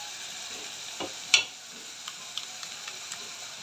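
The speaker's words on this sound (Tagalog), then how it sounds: "Inimix na natin yung egg." Egg being stirred and mixed in a pan makes a faint, steady sizzle, with a few light clicks and scrapes of the utensil scattered through.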